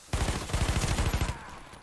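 Gunfire from a Taurus CT9 G2 in the video game Warface, a rapid burst of about a dozen close, punchy shots in quick succession lasting just over a second, then a brief fading tail.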